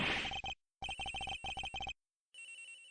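Electronic phone ringtone from the video game Ace Attorney Investigations, a clean chirping ring in two rapid bursts, followed after a pause by a fainter repeat, with no talk.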